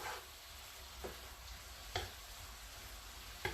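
Vegetables for a meatless stir fry sizzle in a pan with a faint, steady hiss, broken by a few soft scrapes or taps from stirring, quiet and without talk.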